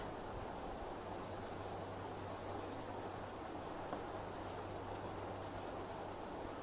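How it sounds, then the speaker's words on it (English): A pencil shades small sections of a Zentangle lotus pod drawing on paper, giving soft, close scratching in short bursts separated by pauses, with no one talking. "So randomly I'm going to pick few sections and add my pencil right there."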